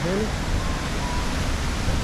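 Strong wind and sea waves at a beach in Lobo, Batangas, a steady loud wash of broadband rushing noise with no distinct breaks, a voice speaking faintly over it.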